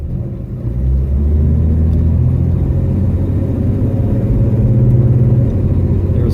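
Ford Falcon with a rebuilt C4 automatic transmission accelerating on the highway, a steady loud low engine drone from inside the car with subtle pitch changes as it climbs and shifts.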